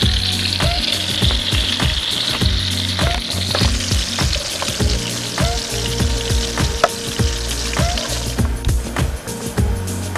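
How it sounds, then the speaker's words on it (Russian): Taimen fish cutlets sizzle and crackle steadily in a frying pan, a loud continuous fry with frequent sharp pops and taps throughout. "Тут у нас жарятся котлеты из таймени."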